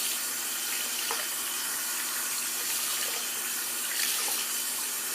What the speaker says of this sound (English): So I'm just going to quickly rinse the brush off before I do the last pass.